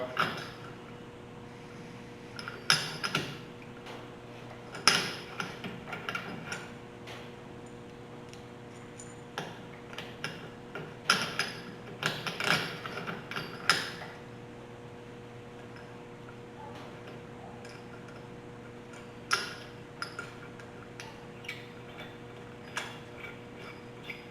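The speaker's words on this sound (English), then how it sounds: "I'm going to take them and bolt them onto the shock." Parts being bolted onto the rear shock absorber of a 1983 Squarebody crew cab truck, with scattered metallic clicks, ratchet ticks and light clanks over a steady low hum in a quiet workspace.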